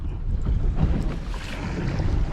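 Steady gusty wind buffets the microphone on a bass-fishing boat with a low rumbling roar, continuous and fairly loud, over faint water and boat noise.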